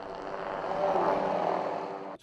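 A Cobra attack helicopter flies over an army aviation unit's firing competition, its rotor and engine giving a steady, moderately loud drone that swells slightly and then cuts off.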